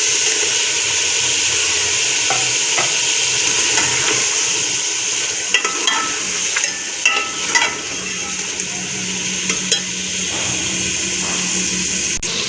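Chicken sizzling in a pan with potatoes, tomatoes and green chillies, a loud steady frying hiss with occasional stirring scrapes and clinks, close by.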